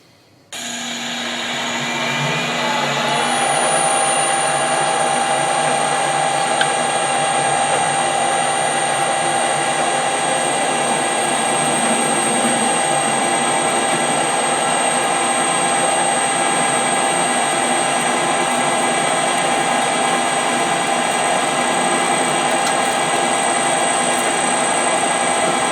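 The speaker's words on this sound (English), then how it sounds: "We'll drill and bore this one" A metal lathe spins up and holds a steady, loud whine with high metallic tones while drilling and boring a core drill arbor extension, running continuously without pause.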